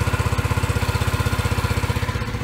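A scooter engine idles with the choke on, a loud, close, steady rapid putter with an even pulsing rhythm and no talking.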